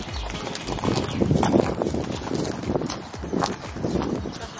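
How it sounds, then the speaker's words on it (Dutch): Horses are led on foot to another pasture. Their hooves clip-clop in an uneven walking rhythm over ground, close by, with some wind buffeting the microphone. "En nu gaan de paardjes de andere wei."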